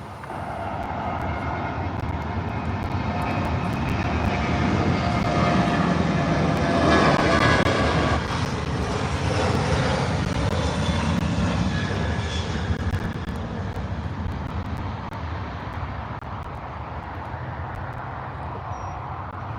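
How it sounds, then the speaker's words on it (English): A Southwest airliner's jet engines roar on the takeoff roll, a broad, steady rushing drone heard from a distance that swells toward the middle and then slowly fades. "We have a Southwest on the takeoff roll"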